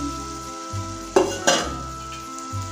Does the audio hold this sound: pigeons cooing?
no